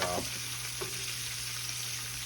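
Oysters fry in hot oil with a constant close sizzle and a faint low hum underneath, no voices.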